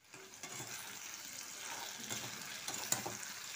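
Paste of cashews, raisins, ginger and green chili frying in a pan for chicken korma gives a steady soft sizzle. It sounds close and quiet, with faint stirring scrapes and no voices.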